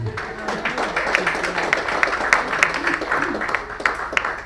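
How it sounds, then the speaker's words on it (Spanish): A church congregation applauds together, a steady wash of many hands clapping at moderate loudness with scattered voices mixed in, sustained evenly throughout. "¿Cuánto le damos un aplauso al Señor?"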